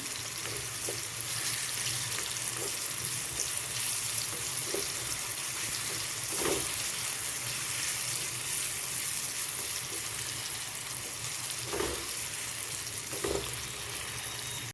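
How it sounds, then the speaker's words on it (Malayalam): Chopped banana frying in ghee gives a steady, even sizzle and hiss that holds for the whole stretch, with a few faint clicks and no talking. "ഇതിൽ കിടന്നിട്ട് ഇങ്ങനെ പഴം ഒന്ന് വിളയണം കേട്ടോ ഈ നെയ്യിൽ കിടന്നിട്ട് ഈ പഴം ചെറുതായിട്ട് അരിഞ്ഞത്"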